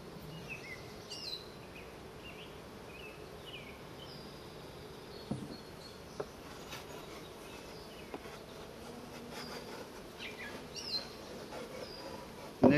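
Honey bees buzz around an open beehive during a colony inspection, a steady faint swarm hum with individual bees droning close by now and then, plus a few soft knocks.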